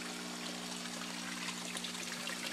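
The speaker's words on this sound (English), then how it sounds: "you can actually see the water bubbling right there in the corners." Air stones bubble water in the corners of an aquaponics filter tank, making a continuous soft trickling and fizzing with a steady hum beneath, even in level and moderately quiet.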